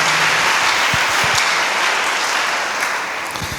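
A church congregation applauds loudly in praise to God during a sermon, with a dense, steady wash of many clapping hands close by and a few sharper claps near the end.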